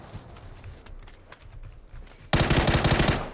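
Gunfire erupts in PUBG: a loud, rapid burst of automatic shots starts abruptly near the end after a quieter stretch of faint ambient noise and distant pops.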